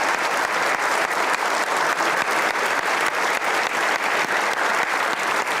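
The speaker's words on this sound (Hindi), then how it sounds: "अरशद नदीम के लिए एक बार हाथों हाथ तालियां बजा लो" A studio audience on a comedy talk show gives loud, dense, sustained applause for javelin thrower Arshad Nadeem, continuous close clapping with no voices over it.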